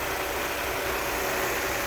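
A Mercedes 300 SE engine idles steadily, a smooth, even drone with a constant low rumble and broadband hiss and no talk over it.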